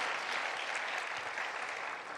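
A large congregation at a winter retreat's opening worship service gives sustained applause to God, a dense, even roar of many hands clapping together.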